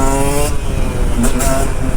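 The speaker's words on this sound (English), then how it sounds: "pull in the clutch, rev the engine and release the clutch" Motorcycle engine revving hard as the rider pops a wheelie, a loud close roar with a quick rise in pitch and a brief scrape, alone without talk.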